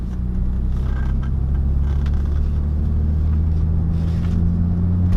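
A Saab 9-5 drives past nearby, a steady low road rumble and engine drone that holds for several seconds without any voices.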